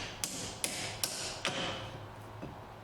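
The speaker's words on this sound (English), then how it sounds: "I'm just going to lightly tap it with the hammer to see if I can loosen it." A hammer lightly taps a seized brake disc on a car's rear axle, four sharp metallic knocks about half a second apart, then a fainter fifth, close and alone.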